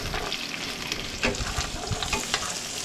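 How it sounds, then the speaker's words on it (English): Thin coconut slices frying in oil in a pan aboard a sailing boat, a steady crackling sizzle with scattered stirring scrapes and small pops, close and alone. "So fry them up in oil."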